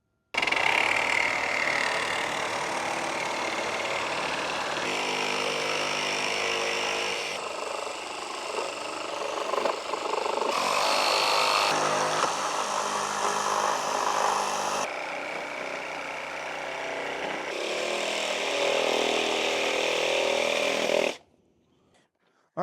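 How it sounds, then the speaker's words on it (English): A sawzall reciprocating saw cuts into the plastic and metal fin on a Subaru Crosstrek during a winch mount install, a loud, harsh, continuous buzzing with brief pauses, heard close up before it stops abruptly. "We're going to use a sawzall blade"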